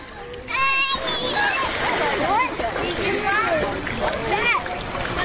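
Water splashes and sloshes as children wade and clamber into a pool or lake, with excited kids' voices and adult calls continuing over the splashing throughout.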